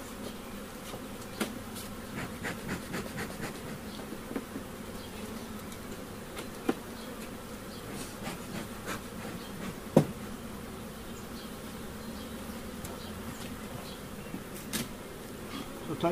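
Honeybees buzzing steadily around an open hive, a continuous close, moderately loud drone with occasional faint knocks of hive equipment and no talk.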